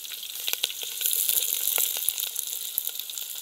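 Chillies and onion sizzle and crackle in hot oil, a steady bright hiss dotted with sharp pops, close and moderately quiet.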